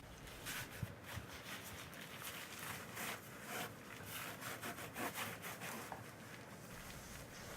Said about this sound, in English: Use a car wash brush with a long handle and soft bristles.